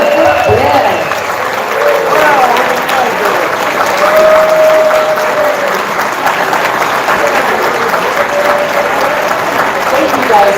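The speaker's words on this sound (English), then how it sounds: "First-timers to the SOC, please stand up, give a round of applause" A ballroom banquet crowd gives a loud, sustained round of applause for first-timers, dense clapping filling the room while voices and a few whoops carry over the top.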